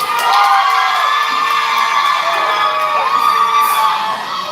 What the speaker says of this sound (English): we want you guys to cheer on your school